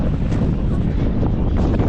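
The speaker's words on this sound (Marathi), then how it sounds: "सोसायटीचा वारा सुटलाय" Steady wind buffets the microphone outdoors on a jungle trek, a continuous broadband rush with no other clear sounds.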